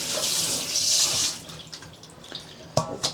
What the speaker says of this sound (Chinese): 然后我们洗一洗这个盆，这个我们叫铁盆。